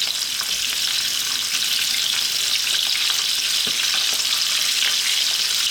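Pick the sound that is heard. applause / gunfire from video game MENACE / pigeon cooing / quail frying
quail frying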